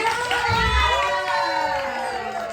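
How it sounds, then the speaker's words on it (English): A dating-show audience cheers and shouts loudly, a dense crowd roar with high excited voices layered on top, steady through the short stretch with low thumps near the start. "Round of applause, y'all."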